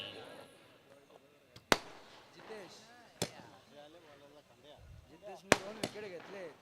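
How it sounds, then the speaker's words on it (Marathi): Firecrackers burst in sharp, loud single cracks, about four or five spaced over several seconds, during a village premier league cricket match, with talk in between. "फटाक्यांच्या आत्ताशबाजीत"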